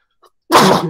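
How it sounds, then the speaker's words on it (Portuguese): A single loud sneeze bursts out close by in a lecture classroom, preceded by a short quiet intake of breath. "Um espirro nessa hora na sala de aula já teria pulado uns três."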